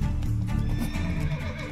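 In The Witcher 3: Wild Hunt, a short, loud horse whinny, close and full, with faint hoof sounds underneath.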